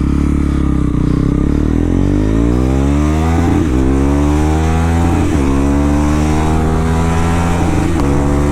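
Modified KTM Duke 390 Gen 3 motorcycle revved loud and close, its engine climbing in pitch through repeated blips with crackling exhaust pops, no voices.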